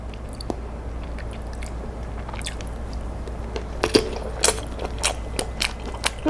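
Britt Vienna sausages from Baeksul being eaten up close, with soft bites and squishy chewing that grow more frequent in the second half, sparse clicks in between, and no talking.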